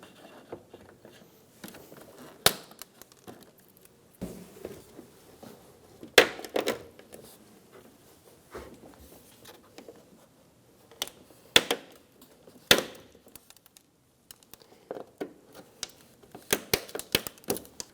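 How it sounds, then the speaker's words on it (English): Plastic trim clips being pried and pulled from the upper grille of a 2013-2017 Honda Accord, a series of faint, sharp clicks and snaps at irregular intervals against a quiet background, with no talking. "Remove the clips from the upper grille."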